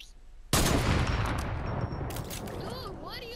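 Dense burst of video-game gunfire erupts suddenly and keeps rattling loudly, with rapid overlapping shots and faint background game noise.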